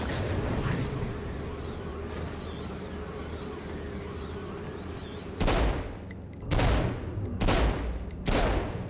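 Four loud, broadband pistol shots in Gat out of Hell, each a sharp crack with a short tail, spaced roughly a second apart after a stretch of buzzing, wavering ambient game noise.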